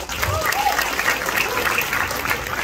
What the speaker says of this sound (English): So I want to start by asking you to applaud yourselves for that